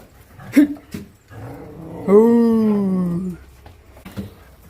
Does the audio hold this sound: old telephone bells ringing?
no